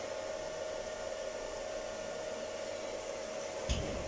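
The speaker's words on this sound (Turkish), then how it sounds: "motoru birden pompayı ve sondajı beraber çalıştırıyorum" A solar-powered motor drives a water pump and borehole together on a Frecon 11 kW installation under overcast skies, giving off a steady, loud whirring hum with a constant tone, close and unbroken, with one brief knock near the end.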